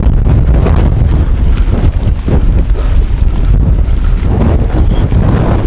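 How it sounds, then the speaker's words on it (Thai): Loud, continuous wind and rain roar and buffet the microphone on a mountain trail at Khao San An, Tak, with a dense rushing wash throughout and no voices. "หลังจากหลุดป่ามานะครับเจอทั้งลมทั้งฝนเลย"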